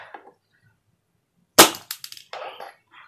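A single sharp snapping shot from an Ares Amoeba Striker S1 bolt-action airsoft sniper rifle, close and loud, followed by faint mechanical clicks and rattles.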